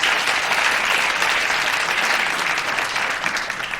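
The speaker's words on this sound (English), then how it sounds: "Yes, we'll give a cheer for that." A crowd at a TreeNote event claps steadily and evenly, a dense sustained wash of applause that fades slightly toward the end.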